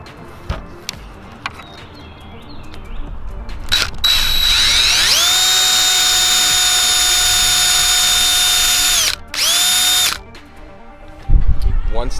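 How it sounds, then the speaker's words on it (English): Power drill boring a hole into the trunk lid of a BMW E46, with a loud sustained whine that rises in pitch and holds for several seconds, briefly cut and restarted, preceded by a few clicks and handling noises. "So I'm gonna drill right there."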